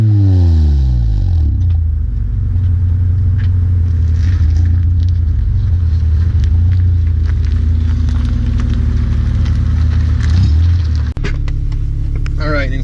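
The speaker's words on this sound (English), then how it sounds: "we'll give you a little sound clip of a Flowmaster 40 on a Honda" A Honda with a Flowmaster 40 exhaust idles with a deep, loud burble, then revs in a couple of modest rises and falls before settling back, recorded close with no talking.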